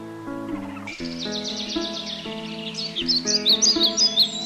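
Birds chirping at Lake Gwihinda, the lake of birds, with bright repeated tweets and trills over a layered tonal music bed, fairly loud and without talk.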